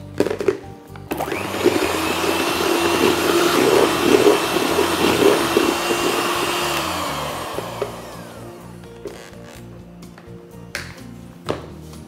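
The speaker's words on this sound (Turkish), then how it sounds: "Şimdi unumuzu atıyoruz. Tekrar çırpıyoruz." An electric mixer beats flour into brownie batter with a loud, steady whir close by. It runs for about seven seconds, then winds down, and some quieter knocks and clatter follow.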